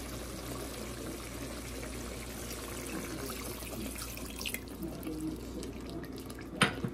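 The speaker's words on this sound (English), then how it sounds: "So I'm gonna go ahead and add more water." Water poured into a pan of simmering pork chops and gravy, a faint trickling and splashing that ends in a brief clatter, heard alone and quietly.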